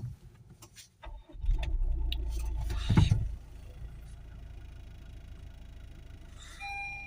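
A 2017 Honda HR-V with an electrical fault and PCM malfunction cranks and starts, a brief rising rumble after a few clicks, then settling into a low, quiet idle hum.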